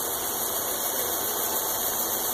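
Grizzly G0704 milling machine spindle turning at about 1,000 RPM on a poly-v multi-rib belt drive with a newly installed spindle, giving a steady even whine with faint high tones and no change in pitch or level throughout.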